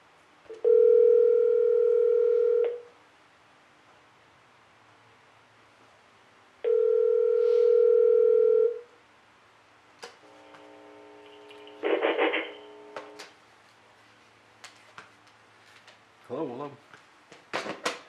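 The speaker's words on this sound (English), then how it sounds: "To make a direct VoIP call, all you do is plug in the IP address of the phone you're trying to call." An IP phone placing a direct VoIP call to another phone's IP address: two long steady dial-tone bursts, then quick keypad-style beeps and short tone chirps, clear and close with no other sound.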